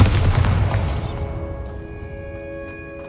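Bombarda blasting spell in the Hogwarts Legacy video game: a loud, deep booming explosion that bursts at once and rolls into a long ringing, shimmering tail of sustained tones.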